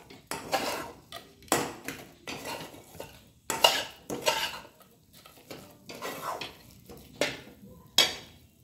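A spoon scrapes and stirs a thick sugar mixture for sugar naru in a metal pan, giving close, irregular clinks and scrapes roughly once a second, with no talking.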